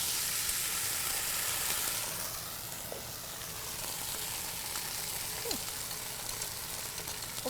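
Garlic frying in canola oil in a pan, a steady close crackling sizzle with a bright hiss that runs the whole time, softening a little partway through.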